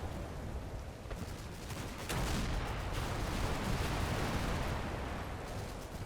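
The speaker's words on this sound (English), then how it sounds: "the hedgerows I've just vacated are being smothered with 20mm fire" Sustained 20mm cannon fire raking hedgerows in the Combat Mission wargame, a dense continuous rumble of distant bursts and impacts that grows louder partway through, with no talk.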